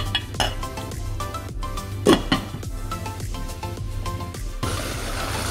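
A metal spoon stirs beef kabiri rice in a pot, making repeated scraping clinks and soft taps in an uneven rhythm, fairly close, with a louder knock midway.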